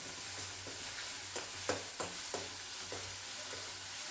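Tomato masala for egg curry fries in oil in a pan, with a soft sizzle underneath and a spoon stirring and scraping in several distinct strokes.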